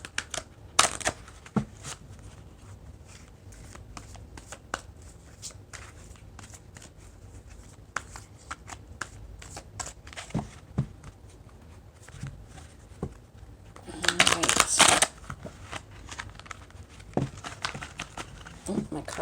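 A deck of tarot cards being shuffled in loose, choppy bursts, soft riffling flutters scattered throughout and a louder, denser riffle near the end, close by with no talking.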